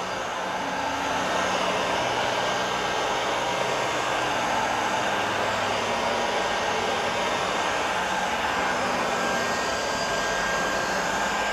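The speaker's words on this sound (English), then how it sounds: "Now I have the heat gun on the highest setting, that's like 500 degrees Celsius." A heat gun on its highest setting, around 500 degrees Celsius, blows a steady, loud whoosh of hot air onto a Porsche Boxster headlight during a bi-xenon HID conversion, continuous and unbroken throughout.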